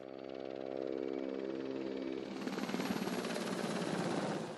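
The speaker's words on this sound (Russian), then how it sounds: "эвакуируют с помощью вертолета" A military helicopter during Ukrainian army exercises to capture a dam, with NATO observers present, drones loudly and steadily, its tonal engine whine giving way to a broad, thick rotor roar.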